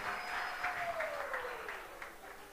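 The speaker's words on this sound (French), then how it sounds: "Applaudissez, s'il vous plaît." Light, fairly faint applause from an audience welcoming a jury president at a youth quiz competition, a thin patter of clapping with a sliding tone sounding faintly underneath.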